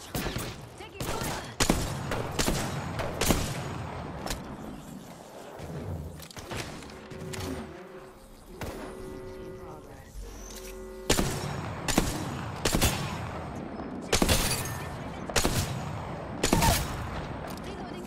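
Gunfire in the Apex Legends video game, loud bursts of rapid shots and fusillades in clusters, with a quieter lull midway and voices calling out between the volleys.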